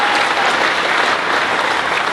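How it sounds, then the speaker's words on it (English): Pitch-night audience at an accelerator event applauds after a startup pitch, a dense, steady burst of many hands clapping close and loud, with no talk over it. "Another round of applause for Julia."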